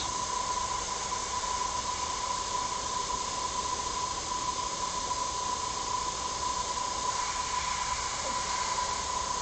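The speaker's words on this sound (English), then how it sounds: "when you practice with the airbrush, you'll start to feel the trigger a lot more" An airbrush sprays paint onto a surface masked with a hand-held piece of paper, giving a steady, close, unbroken airy hiss throughout with no talking.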